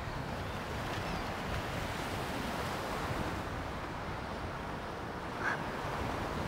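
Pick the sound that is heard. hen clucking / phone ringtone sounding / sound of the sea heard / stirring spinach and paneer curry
sound of the sea heard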